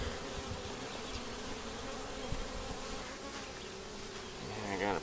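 Honeybees swarm around an open hive during an inspection, a dense continuous buzzing close to the mic, steady and even throughout with a few louder passes near the end.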